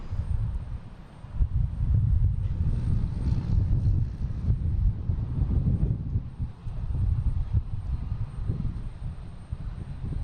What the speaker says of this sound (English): then we have Aer Lingus coming in from Shannon,